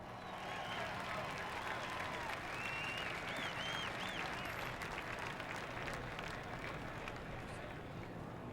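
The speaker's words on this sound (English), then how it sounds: "Listen to the crowd." Race fans at a truck series event at Talladega cheer and applaud in a steady, dense roar of crowd noise with whistles and shouts, sustained throughout at a fairly distant, even level.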